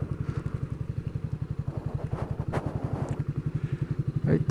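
A motorcycle engine runs close by with a steady, rapid pulsing rumble throughout, on a road, with brief clatter and a louder burst near the end.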